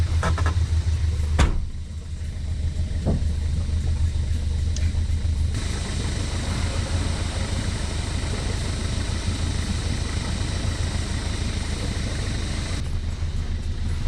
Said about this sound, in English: I'm gonna just try and drive out